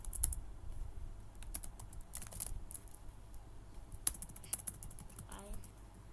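Quiet, close keystrokes on a computer keyboard while writing HTML and CSS code, irregular clicks in short runs with faint background noise.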